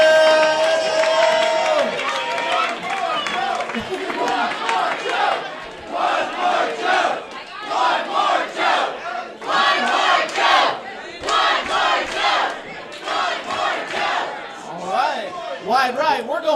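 Roast battle comedy audience cheering, whooping and shouting in loud rolling bursts, voices rising and falling together over some clapping, with a voice speaking near the start.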